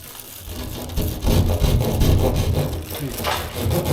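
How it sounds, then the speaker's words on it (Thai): A hand saw rasps back and forth through a gypsum board in quick, uneven strokes, close by and fairly loud. "ตรงนี้ผมก็ใช้เลื่อยเลยนะ มันเป็นแผ่นยิปซ้ำครับ"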